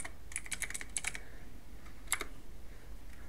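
Quick bursts of computer keyboard typing as a network command is entered, a cluster of rapid close key clicks at the start, a pause, then a second short burst.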